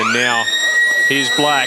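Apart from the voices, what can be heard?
stadium siren ending the quarter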